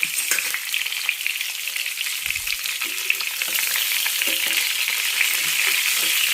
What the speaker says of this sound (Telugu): ఇట్లా చక్కగా కాయ చివరకుండా వేయించుకుంటే సిమ్లో పెట్టి బాగుంటుందండి